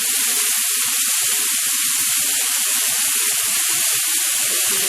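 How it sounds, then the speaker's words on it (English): Wine-marinated beef sears in a hot pan on the stove, seasoned with salt and pepper, giving a loud, steady sizzle with fast crackling pops that continues throughout, with no talking. "we're going to get a really nice sear all around it"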